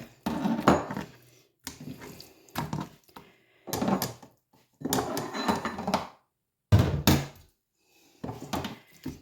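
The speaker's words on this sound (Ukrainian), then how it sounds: "Значить, відбили м'ясо." Steak meat pounded to tenderize it, in a series of sharp, hard thuds that come in short clustered bursts separated by brief pauses, close and fairly loud, with no talking.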